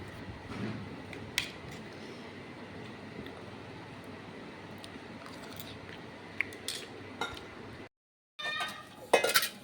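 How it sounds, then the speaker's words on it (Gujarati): Dishes, pots and utensils being washed at a distance, faint intermittent clinks and clatters over a steady background hum, with a brief dropout near the end before louder clatter. "આ મારા છોકરાના માતુશ્રી બંને વાસણ ધોઈ રહ્યા છે"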